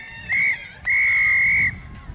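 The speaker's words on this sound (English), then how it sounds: "the referee blows the final whistle" A referee's whistle at the close of a women's university rugby match between Cardiff and Hartpury, one short shrill blast followed by a longer sustained one over low crowd murmur.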